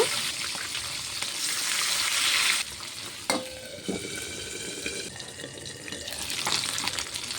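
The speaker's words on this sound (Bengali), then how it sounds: "আগে থেকে নুন হলুদ মাখিয়ে রাখা পার্শে মাছগুলি ভেজে নেব" Parshe fish frying in hot oil in a small wok, a loud crackling sizzle that drops to a softer steady hiss midway, with a few clinks and scrapes from a utensil.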